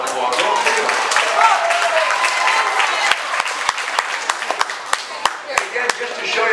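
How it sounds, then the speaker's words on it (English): An audience at the Cattaraugus County Fair applauds steadily after a round of judged performances, a dense wash of clapping that thins out into a few scattered, louder individual claps toward the end. "Now give all of them a big round of applause."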